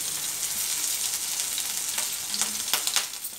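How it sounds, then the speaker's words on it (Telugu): Cumin seeds sizzle steadily in hot oil for a chole masala curry, a continuous close frying hiss with a few brief sharper crackles near the end and no talking. "ఆయిల్ వేడయ్యాక ఇందులో మనం జీరా వేసుకోవాలి."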